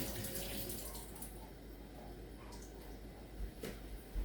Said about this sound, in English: let me drain the water